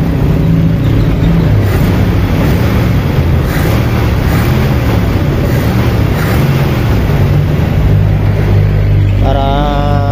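Toyota 5K engine idling steadily during ignition timing, a loud continuous low rumble with even harmonics throughout, close up, and no talk.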